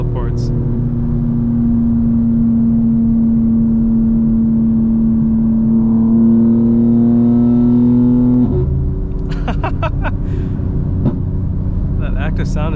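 A 900 hp 2025 BMW M4 Competition xDrive in all-wheel drive, fifth gear, with Active Sound Design, pulls hard: a loud, steady droning engine note climbs gradually, then drops sharply at a shift, followed by lighter whirring.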